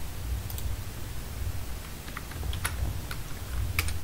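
Typing on a computer keyboard while filling in an online recruitment form, with irregular bursts of light key clicks over a low background hum and no talking.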